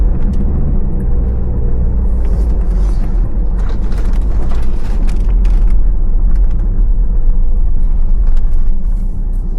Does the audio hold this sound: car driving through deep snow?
yes